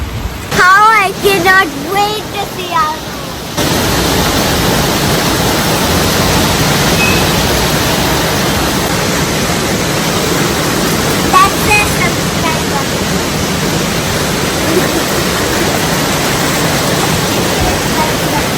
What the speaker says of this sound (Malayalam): ഇവിടത്തെ മഴ ഒരു രക്ഷയില്ല കേട്ടോ. ജൂലൈ മാസം എന്ന് പറഞ്ഞു കഴിഞ്ഞാൽ ഇങ്ങനെയാണ്, ഇങ്ങനെ പെയ്തോണ്ടിരിക്കും.